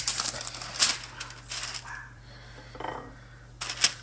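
Wax paper and aluminum foil are handled while slices of French toast are wrapped, producing crisp crinkles and rustles in short bursts with quiet gaps between them, over a low hum.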